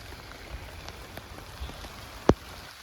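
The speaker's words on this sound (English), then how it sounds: "The rain's coming down again." Rain falls steadily on an allotment during a storm as a soft, even patter with scattered drip ticks and one sharp louder drop near the end.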